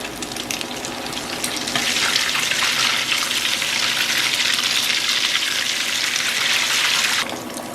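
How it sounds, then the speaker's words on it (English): Egg-and-fish nuggets with curry seasoning fry in a pan, giving a loud, continuous hissing sizzle that holds steady for several seconds before easing off near the end. "And just fry them."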